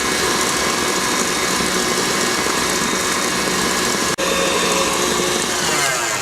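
Stand mixer beating macaron mixture with fine sugar, a continuous close motor drone with churning texture and one brief dropout near the end.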